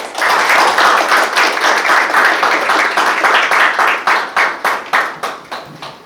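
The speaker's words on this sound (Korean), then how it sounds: "박수로 환영해 주십시오." An audience at a university colloquium celebrating a Ho-Am Prize win applauds to welcome a speaker, a loud burst of clapping that thins out into separate, slowing claps as it fades.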